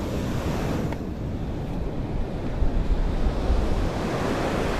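Ocean surf washes up a beach with a continuous loud roar of breaking waves, mixed with wind buffeting the microphone, and no voices.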